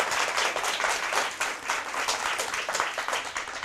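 An audience at a school math championship applauds a correct answer from Choiseul Secondary, with a dense, steady wash of many hands clapping at once, loud and continuous across the whole moment.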